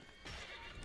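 A horse whinnies in a short, quiet burst against a faint background, in the video game Assassin's Creed 3.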